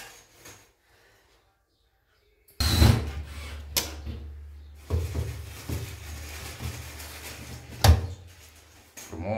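An access panel door set into the plasterboard and tile surround of a Fibrex bathtub being opened and closed, giving sharp wooden-sounding knocks and thuds at close range over a low background hum.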